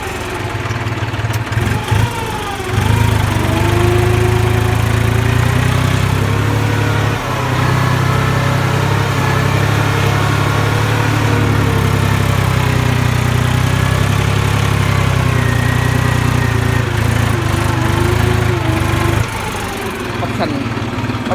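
A New Holland TT3.50 tractor plowing a field, its engine a loud, steady low drone that dips briefly and then holds firm for a long stretch.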